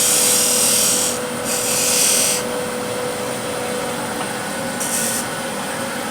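A skew chisel shaves a spinning wooden wheel on a woodturning lathe, a raspy scraping hiss rising in several short bursts over the steady hum of the running lathe.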